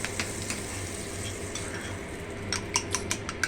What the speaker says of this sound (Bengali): আবার 2টো ডিমকে আমি ফেটিয়ে নিচ্ছি